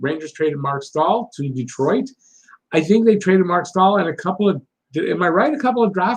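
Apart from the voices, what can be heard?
No everyday noise stands out behind the speech.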